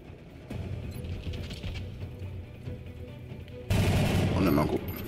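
Rapid bursts of gunfire in the turn-based strategy game XCOM: Enemy Within, steady shots through the clip with a louder, denser volley near the end, heard alongside game audio.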